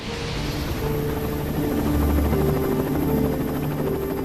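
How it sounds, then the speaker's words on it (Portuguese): Rescue helicopters fly over the crash site of West Air Sweden Flight 294, a heavy rotor drone that is steady, loud and close, with a constant low thumping and a broad whine throughout. "Demora 3 horas para os helicópteros de resgate chegarem."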